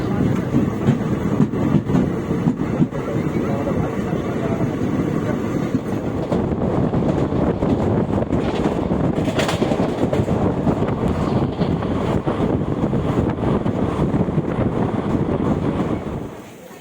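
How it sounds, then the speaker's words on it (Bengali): The 13141 Teesta Torsa Express pulls out of platform 4 at Katwa station and gathers pace, giving a continuous heavy rolling rumble with rattling carriages and wind rush, loud and close throughout. "কাটোয়া স্টেশনের প্ল্যাটফর্ম নম্বর 4 থেকে আবার ট্রেন ছাড়লো তার গন্তব্যের উদ্দেশ্যে"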